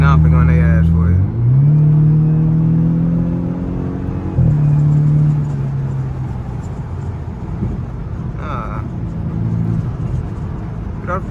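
A twin-turbo BMW F32 with a loud intake accelerates hard from the driver's seat, its engine note climbing through gears with a throaty rumble, while occupants talk over it.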